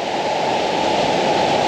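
A powerful, steady roar of a polluted waterfall at an abandoned spa in Oblatos, continuous and loud, with no voices or other sounds.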